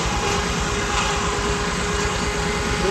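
Minneapolis tractor engine running steadily at a harvest reunion, a loud continuous low rumble with a faint whine over it, no break across the whole stretch and no talk.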